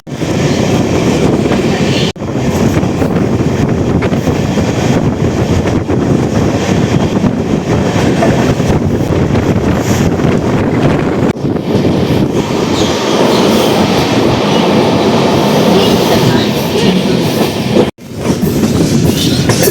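The Amrit Bharat Express from Thiruvananthapuram to Hyderabad runs on its inaugural trip, a loud continuous rumble of wheels on rails with rhythmic clatter and metallic squeal, heard close from aboard for about twenty seconds.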